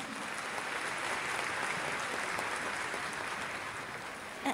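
Audience applause at a speaking event as the next speaker is introduced, a dense, even wash of many hands clapping throughout, moderately loud and unbroken.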